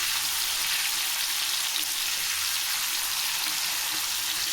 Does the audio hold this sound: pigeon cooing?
no